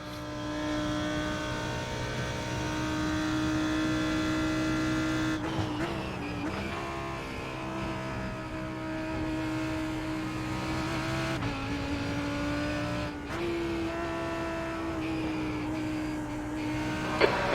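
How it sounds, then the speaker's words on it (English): A race car screams along at speed in the iRacing simulator on the IMSA Hagerty series at Watkins Glen, its engine a loud, steady drone. The pitch dips and climbs again around two gear changes, with no voices. "There's a faster car bearing down on you."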